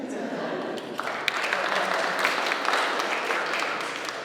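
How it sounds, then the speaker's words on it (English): Audience applause at a youth congress keynote, a broad wash of clapping swelling in after a second and holding steady at moderate loudness. "Yeah, you can clap for that too."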